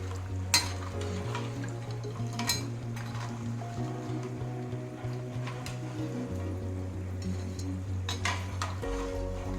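Chegodilu snacks deep frying in oil with a steady low sizzle, broken by occasional sharp clinks of a metal utensil against the pan over a constant background hum.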